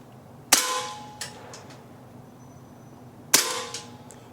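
A Beretta M9A3 CO2 BB pistol in .177 fires two sharp cracks a few seconds apart, each with a metallic blowback clack and short ringing tail, close by in a quiet space.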